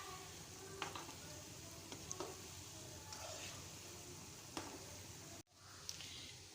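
Shakar para sweets cooking in hot oil, a steady close sizzling and crackling broken by small pops, with a brief dropout near the end.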